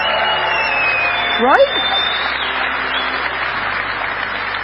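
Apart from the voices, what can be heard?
audience applause at a conference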